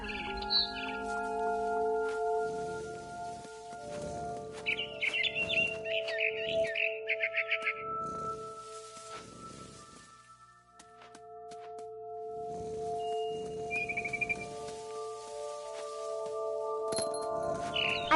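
A frightened bird in What Remains of Edith Finch chirps in quick, bright bursts several times, over a humming game ambience with soft footsteps and clinks between the calls.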